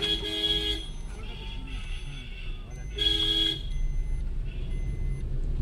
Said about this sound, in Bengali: আর কি যাবো না, ওই গাড়িটা হর্ন দিচ্ছে